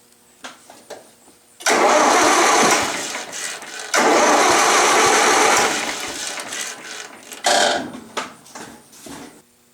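An International Harvester IH 354 tractor engine cranking over during fuel-flow troubleshooting, two long loud bursts of starter churning and a shorter third, with brief pauses between and no talk.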